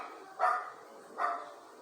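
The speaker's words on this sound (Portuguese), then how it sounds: "Até porque Bolinha está latindo demais" Dog barking twice in quick succession, two sharp, fairly close barks spaced under a second apart against a quiet background.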